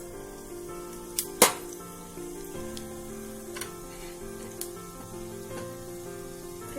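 Oil heats in a pan with dals, cumin and mustard seeds, giving a steady low sizzle broken by a few sharp crackles and pops, with no one speaking.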